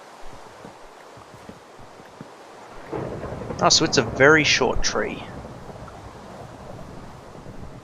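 Steady rain and wind hiss in the blocky sandbox game Minecraft (Feed The Beast), with someone talking casually over the downpour in the middle stretch.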